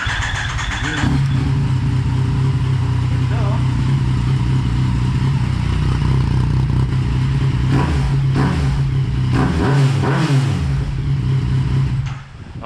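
Motorcycle fitted with an affordable aftermarket muffler, loud and close, idling steadily then blipped into a few sharp revs near the end, with people talking faintly in the background.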